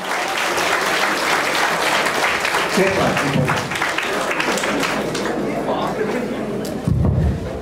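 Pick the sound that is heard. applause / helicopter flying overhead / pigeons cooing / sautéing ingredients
applause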